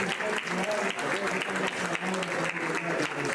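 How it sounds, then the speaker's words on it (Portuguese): A lecture audience at a talk on reading gives a warm round of applause: dense, steady clapping from many hands that fills the room without pause. "uma calorosa salva de palmas para os"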